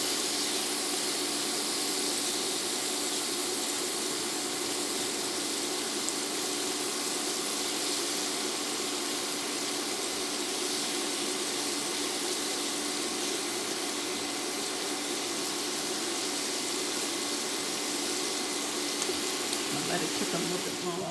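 Shrimp cooking in a pan for keto garlic sauce: a steady, even frying hiss and sizzle, close and continuous, with talk faintly under it.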